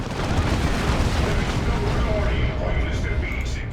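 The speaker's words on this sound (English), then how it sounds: "Those are the Purgation Squad with their side cannons." Purgation Squad side cannons firing in a Dawn of War 2: Retribution battle, a dense, continuous barrage of booming artillery-like blasts that fills the whole stretch at steady, loud intensity with no pauses.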